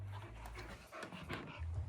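An agitated female dog pants rapidly and steadily, close by and fairly quiet, over a low rumbling background hum.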